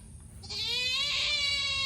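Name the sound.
goat bleating on a farm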